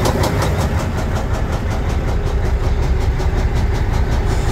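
Rough idle of a Kenworth T680 Next Gen truck engine, a loud continuous diesel rumble with a steady rapid pulsing knock throughout, close up and with no talking.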